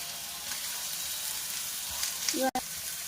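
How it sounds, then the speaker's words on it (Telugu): Ginger garlic paste and washed mint frying in a pan for aloo dum masala, a steady soft sizzle with a brief sharp clatter near the end; no speech. "కొంచెం అల్లం వెల్లుల్లి పేస్ట్, కొంచెం పుదీనా వాష్ చేసుకొని వేసుకుంటున్నాం"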